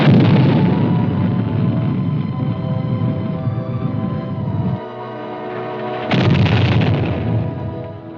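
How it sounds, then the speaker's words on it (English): Loud, sustained booming roar of La Crosse US Army artillery firing in the field, with a dip around the fifth second and a fresh burst of blast noise near the sixth, no talk. "And La Crosse, yet another in the ever-growing family of our modern artillery."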